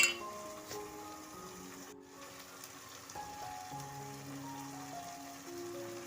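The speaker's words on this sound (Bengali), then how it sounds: "এবার নেড়ে নেব ভালো করে।" A mushroom paneer curry is being stirred in a frying pan, giving a faint, steady sizzle with soft occasional clinks from the utensil. Quiet background music plays, and no one speaks.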